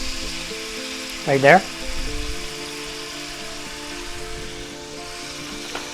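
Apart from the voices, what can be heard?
yellow onions sizzling in a pan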